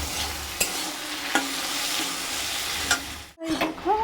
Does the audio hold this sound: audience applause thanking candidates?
no